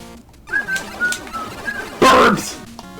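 Soft, repeated bird coos sound in a Mega Man fan game level, riding over busy game music and effects. A person talks over them, and a loud burst of game noise cuts in near the end.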